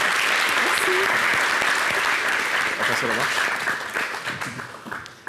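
Studio audience applause on a French television variety show, loud sustained clapping that gradually thins and fades toward the end, with a voice speaking briefly over it.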